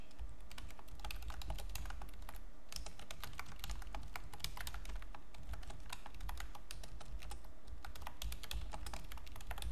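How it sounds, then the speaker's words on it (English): Rapid, steady clatter of keys on a computer keyboard, close and continuous throughout with dense clicks under a low background hum. "And I'm typing that in now."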